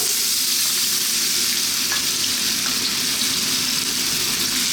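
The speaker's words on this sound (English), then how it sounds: "I want to fry these around on quite a lively heat for about 4 minutes" Raw potatoes frying in hot spiced oil over a lively heat, giving a loud, dense, constant sizzle that stays close and steady throughout, with no voices.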